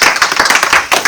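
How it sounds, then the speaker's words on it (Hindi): An audience at a Bhagavad Gita life-management workshop claps loudly in welcome, a dense, close burst of hand claps filling the whole short moment without any talk. "जोरदार तालियों से आप इनका अभिनंदन करें।"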